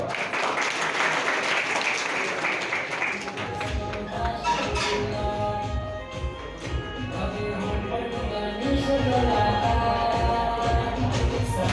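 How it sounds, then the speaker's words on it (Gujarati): An audience at a Gujarati artist audition event claps steadily to welcome a performer to the stage, dense applause building after a quieter start, with a voice over it at times. "તાળીઓથી વધાવા"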